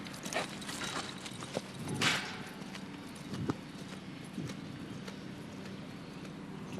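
Horse loping at a relaxed, smooth pace under a rider: faint, distant hoof thuds in an uneven rhythm over a steady outdoor background, with a few louder knocks and no clear talk.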